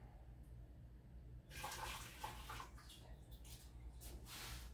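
Water splashing and running into a pot set up as a double boiler for melting candle wax, a brief wash of sloshing that starts abruptly and continues in uneven surges, close and fairly loud, with no talking.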